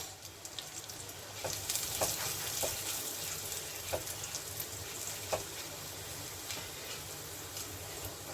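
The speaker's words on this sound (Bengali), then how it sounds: "আর এটা হলো ধনে, গোটা ধনে, একসঙ্গে আমি এটাকে ভেজে নিচ্ছি।" Kashmiri dried chillies and whole coriander seeds fry in a little oil, giving a steady close sizzle with scattered crackles and pops throughout, no voices.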